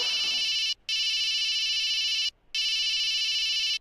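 A mobile phone rings with a steady electronic tone in long bursts separated by brief pauses, three rings in all, loud and close with no talk over it.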